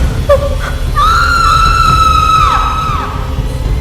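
A woman's high, sustained scream in fear, rising sharply, holding for about two seconds and then bending downward, loud and close over a low rumbling background.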